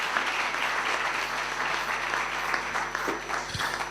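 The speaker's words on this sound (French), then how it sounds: "Je veux qu'on acclame la parole de l'Éternel dans le nom de Jésus de Nazareth." A church congregation applauds in a sustained burst of dense clapping that fills the room, with faint voices mixed in.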